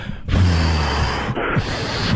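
A man breathes heavily right into a microphone, a close, loud, rushing exhale that starts abruptly and continues with a brief break, no words spoken.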